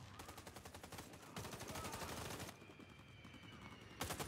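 An AUG A3 HBAR rifle firing in Warface on Nintendo Switch, rapid automatic bursts of evenly spaced shots with a short gap, quiet overall.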